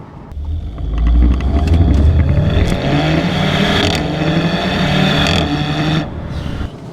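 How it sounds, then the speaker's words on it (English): Sharp exhaust pops from a DSG gearbox car in sport mode, cracking like gunshots over a loud, revving engine rumble that holds steady and close for several seconds before cutting off. "Those DSG farts, it's like a gun going off."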